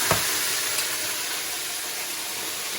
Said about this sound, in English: If you're using really hot oil, it will spit everywhere.